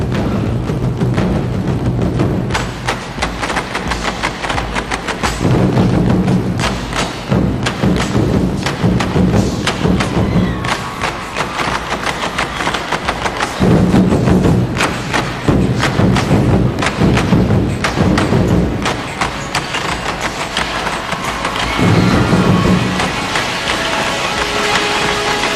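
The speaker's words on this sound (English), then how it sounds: "By 15 Chinese drummers who are booming through Orchard Road in downtown Singapore." Fifteen Chinese drummers pound continuously at a large street party on Orchard Road in downtown Singapore, a loud, dense barrage of booming thuds with a crowd roaring around them.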